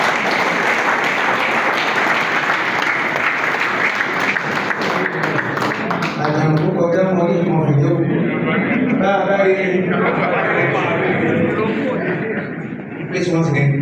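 Clapping from the audience at a groundbreaking ceremony for an entrepreneurship center at Yaba Tech, steady and loud during the first half, then fading under a voice talking and music.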